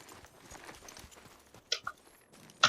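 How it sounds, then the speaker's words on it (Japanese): Soft crunching footsteps in the shooter game Apex Legends patter quietly in quick succession, with a couple of sharper clicks near the end and no talk. "マークの足音か"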